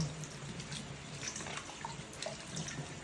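Running tap water splashing steadily into a sink, with small clinks and drips as dishes used for making leche flan are rinsed under the stream.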